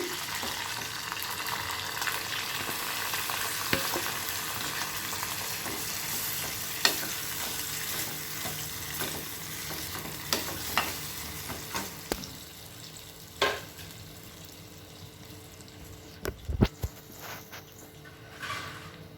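Ridge gourd and mango chutney fries in a pan while being stirred, giving a steady close sizzle with scattered scraping clicks and knocks of the spoon against the pan throughout.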